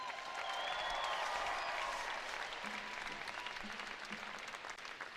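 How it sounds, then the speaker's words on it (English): A crowd claps and cheers in a steady wash of applause that gradually tapers off, with a few scattered voices mixed in, at a Gonzaga versus Saint Mary's college basketball game. "Let's give yourselves a round of applause real quick."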